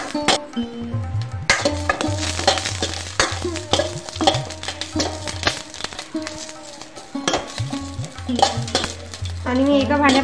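Seven or eight pre-cooked garlic cloves are being roasted in a pan for a pea aamti, with steady scraping and stirring, clinks of a spatula against the metal pan, and a soft sizzle throughout.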